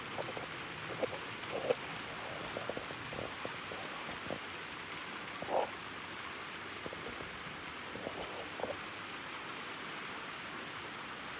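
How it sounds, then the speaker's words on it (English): Steady rain falls at a house, a continuous close hiss with scattered louder drips and patters, and no one speaks. "It's raining at my house."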